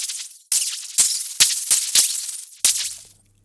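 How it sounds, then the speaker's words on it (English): An electric spark effect built from processed recordings of tinfoil and polystyrene: a series of sharp, bright crackling bursts, each snapping on and decaying over about half a second, about six in irregular rhythm, ending with a faint low hum. "have the spark sound, made of tinfoil and polystyrene, or aluminum foil and styrofoam"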